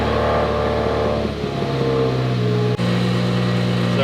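Car engine turning over and settling into a steady idle right after an air suspension bag install, with a brief dip in the middle before the running drone resumes, close and loud.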